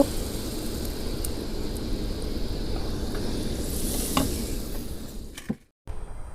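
Egg and flour batter frying in hot oil, a steady loud sizzle and crackle close by, continuing evenly before a brief drop-out near the end.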